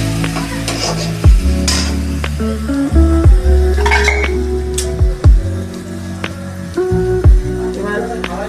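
A spice paste of cashew, sesame and poppy seed is stirred into fried onions in a pan, with repeated scraping and clinking of a spoon against metal, a gentle sizzle underneath and a few sharp knocks.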